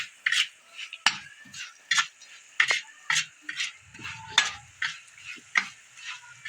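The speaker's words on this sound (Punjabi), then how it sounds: "ਬਸ ਇਹ ਮਸਾਲੇ ਨੂੰ ਆਪਾਂ 2 ਮਿੰਟ ਤੱਕ ਪਕਾਵਾਂਗੇ ਕਿੰਨੇ ਸੋਹਣੇ ਭੁੰਨ ਕੇ ਤਿਆਰ ਹੋ ਗਿਆ ਇਹ" Masala roasting in a pan for stuffed bitter gourds, a spoon stirring in steady repeated scrapes about twice a second over a light sizzle, close and alone with no talk.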